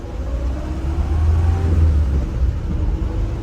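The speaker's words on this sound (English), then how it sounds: "here we are out in this BMW 1602, fairly fresh from restoration" A restored 1975 BMW 1602 engine runs steadily, a low rumble heard from inside the moving car with a slight rise and fall in revs and no voices.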